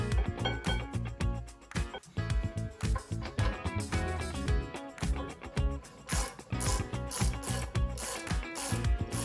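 Rapid ratchet clicks and metallic mechanical rattling as bolts are tightened on a car's brake parts during a Ford Focus ST to RS conversion, busy and irregular, close and moderately loud throughout.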